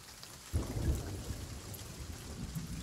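Thunderstorm with rain in the pirate video game Sea of Thieves: a low thunder rumble breaks in and rolls on beneath a steady hiss of rainfall, fairly quiet overall.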